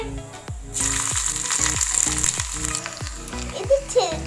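Crushed ingredients and ginger sputter in hot oil in a home kitchen, a loud steady sizzle that flares up sharply after the first moment, with repeated low stirring knocks.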